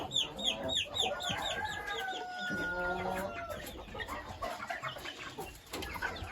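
Several chickens cluck and chatter close by, with a rooster-like call rising in the middle, a busy continuous barnyard flock sound.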